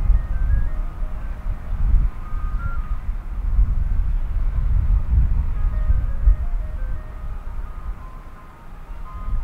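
An ice cream truck near a golf course at a junior tournament plays its tinkling jingle, a thin repeating melody carried faintly over a steady low rumble and wind.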